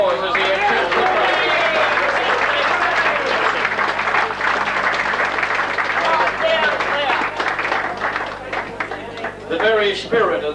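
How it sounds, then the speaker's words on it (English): An audience at a Penguin Football Club award night applauds a trophy winner, with sustained clapping and crowd babble, while voices and cheering rise over it. "give him a big round of applause as he accepts the trophy"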